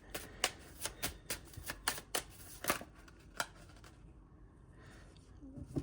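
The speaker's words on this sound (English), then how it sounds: "they want me to get a couple more cards" Tarot cards are shuffled close up in a fast series of crisp riffling snaps over the first few seconds, then the sound trails off into near quiet.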